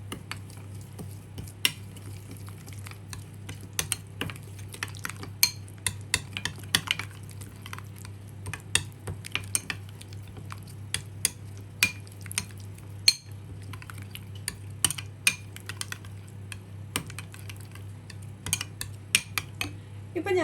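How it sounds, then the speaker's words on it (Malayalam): A spoon stirs a fenugreek powder and curd hair pack in a bowl, giving soft scraping and scattered light clinks at an uneven pace over a steady low hum. "ഇനി നമുക്ക് നന്നായിട്ട് ഇതൊന്ന് ഇളക്കി യോജിപ്പിക്കാം."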